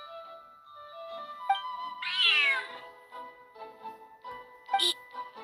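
Cat meows in a video game cat-castle event, a few distinct, fairly close calls: one long rising-falling meow in the middle and a shorter one near the end, over soft game music.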